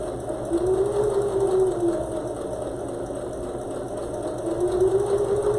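A sewing machine stitches fabric for a Christmas hat, a steady mid-level mechanical whir with a faint pitch rise and fall, running continuously without talk.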